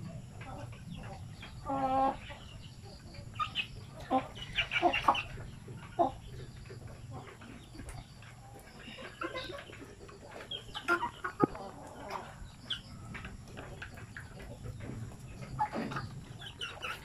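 Native chickens cluck intermittently at a moderate distance, with scattered squawks and soft farmyard background noise; no talking.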